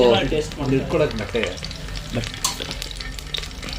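Hot oil sizzles in a pan for a chicken dish, a steady, close crackle that starts under a briefly talking voice and then carries on alone.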